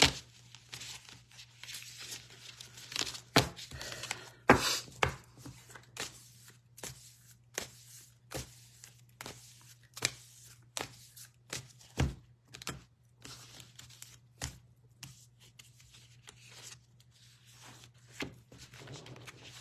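A new, stiff deck of cards being shuffled by hand: irregular crisp snaps and riffling flutters, close and fairly quiet, with short pauses between bursts over a low steady hum.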